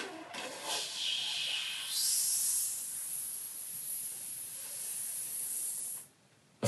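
A voice imitating water gushing into a bowl by pursing the lips and blowing, producing a long, steady snake-like hiss that swells at the start and cuts off abruptly near the end.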